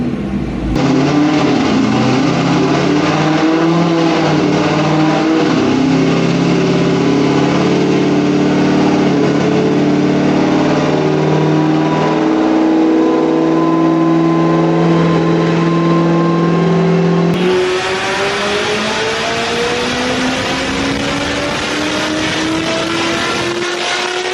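A Corvette Z06 running on E85 with bolt-on parts revs hard on a dyno, its engine climbing steadily in a loud sustained pull, then dropping briefly and rising again with no talk over it.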